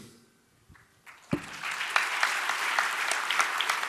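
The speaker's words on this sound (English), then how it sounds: "a big round of applause for all our panelists on stage" Audience applause for the panelists on stage at the close of a sustainability panel discussion, starting after a brief quiet lead-in with a few scattered claps, then swelling into steady, dense clapping that holds to the end.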